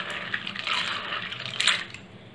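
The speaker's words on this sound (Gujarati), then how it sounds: "અને સરસ તેને ધોઈ લેવાના છે." Raw home-grown peanuts are swished and rubbed by hand in a pot of water to wash them. The sound is a continuous close sloshing and gritty rustle that swells and fades, with no talking.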